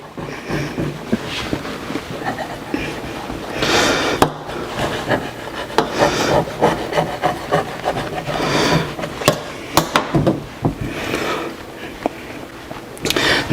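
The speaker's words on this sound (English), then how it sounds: "I'm just taking a paring knife and just trim right around our edges." A paring knife trims around the edges of a pie crust in its pan, making continuous close scraping and rubbing with sharper cuts, under faint room noise.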